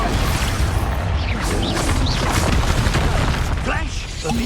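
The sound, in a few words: Expulso explosion spell in video game Hogwarts Legacy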